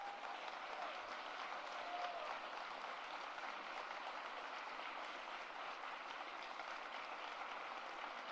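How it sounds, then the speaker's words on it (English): Sustained applause from an audience at the Lunabotics Challenge robotics competition, a steady, even wash of many hands clapping that sounds faint and distant with no break. "give a big round of applause for all these wonderful people who helped"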